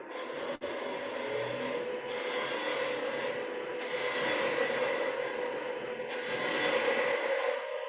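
Wood spins on a lathe while a 3/8 spindle gouge cuts it, producing a steady, continuous rasping hiss with a low hum underneath, close and sustained throughout.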